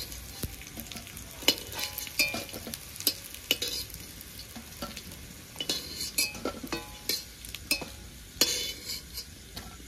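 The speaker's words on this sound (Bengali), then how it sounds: "বড়াগুলো নামিয়ে নিয়েছি, এবার বাকি বড়াগুলো একটা একটা করে ভেজে নেব" Fish roe fritters fry in a pan, a quiet steady sizzle broken by repeated sharp clinks and scrapes of a utensil turning and lifting them, with no talk.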